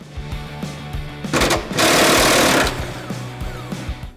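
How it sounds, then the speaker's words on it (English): An impact wrench removes a nut for a stainless steel bull bar on a 2004-2018 Ford F150 frame, giving a loud sustained burst in the middle with shorter clattering bursts around it. "So we're going to go ahead and take our impact and get this one removed."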